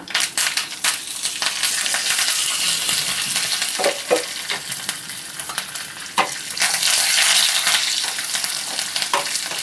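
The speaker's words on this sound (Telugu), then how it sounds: "మన పోపు అయితే చక్కగా వేగిపోయిందండి" Curry leaves tempering in hot oil for a roasted chana dal chutney fill the clip with loud, continuous sizzling, peppered with sharp popping crackles and occasional spoon scrapes close by.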